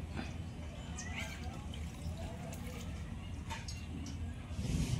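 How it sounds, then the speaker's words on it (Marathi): Raw chicken is washed by hand in water before making a Maharashtrian chicken curry. Soft splashing and trickling come close but quietly, with a slightly louder slosh near the end. "2-3 पाण्यानं धुवून घेऊ"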